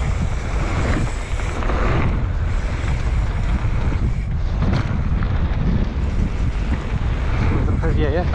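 Wind blowing hard across a microphone at a bike park, a steady roaring buffet that fills the whole stretch without pause.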